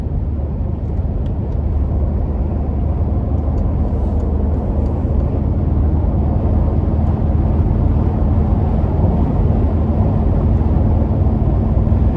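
A 2015 Mercedes-Benz G63 on 24-inch wheels cruises down the interstate, giving a loud, steady low rumble of engine and road noise with wind hiss on top and no talk.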